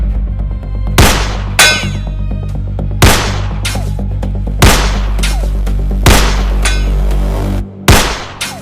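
Rifle gunshots in a shootout, about seven sharp loud reports spaced a second or so apart over a steady low hum, no talk.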